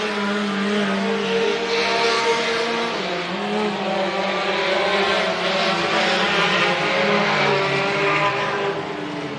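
Race cars lapping the track at Hibbing Speedway during a weekly racing event, a continuous loud roar of engines with shifting pitch as cars pass, no talk over it.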